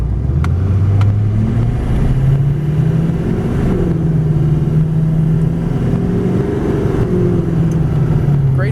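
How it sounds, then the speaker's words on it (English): Deep, steady exhaust drone from a 2007 GMC Sierra 2500HD Classic pickup with the LBZ Duramax diesel, heard from inside the cab while driving, rising and falling slightly with throttle and uninterrupted by speech. "I will just be quiet for a moment so you could hear the exhaust note."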